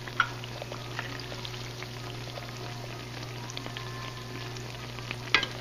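Pumpkin fritters made from wheat flour, eggs and peeled pumpkin fry in a pan with a steady, soft sizzle and a few faint pops and clicks, fairly quiet and without speech.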